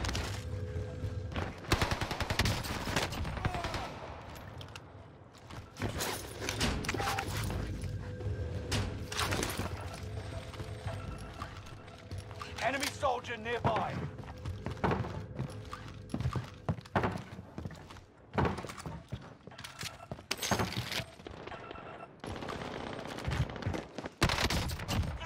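Rapid bursts of automatic gunfire from an Owen submachine gun in a Call of Duty match on Rebirth Island, repeating in dense volleys with thuds and scattered impacts, loud and continuous throughout with little pause.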